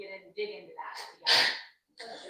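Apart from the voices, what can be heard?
sneeze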